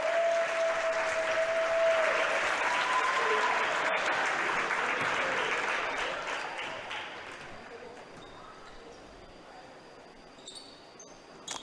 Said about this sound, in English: gets the applause as he walks out on his senior night